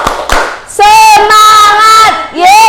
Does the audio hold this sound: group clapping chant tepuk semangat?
yes